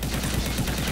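Rapid P90 automatic gunfire in a video game, a loud, continuous stream of closely spaced shots running the whole moment.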